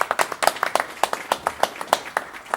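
Rhythmic clapping at a conference in a Lille venue, a small audience beating out sharp, evenly spaced claps in a steady pulse, close and fairly loud.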